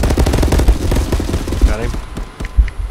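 Gunshots in the VR shooter Contractors, a fast, loud string of close automatic bursts that thins into a few isolated shots, with a voice talking over them.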